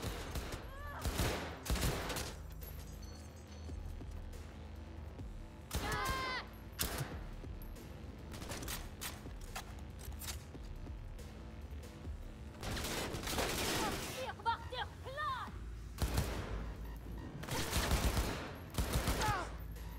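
Gunfire in the video game Cyberpunk 2077, with repeated sharp shots in bursts and single cracks spread across the stretch, moderately loud over a steady game background with occasional faint voices.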